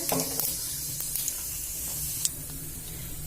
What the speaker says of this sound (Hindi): ई तेल हमर गर्म भ गल है। फोरन में हम जीरा डाले छी।